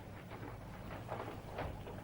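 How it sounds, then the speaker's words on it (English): Rain falls in a soft, steady patter as a sound effect in a BBC radio murder-mystery drama, quiet and continuous with faint swells and no voices. "It's not raining so hard now."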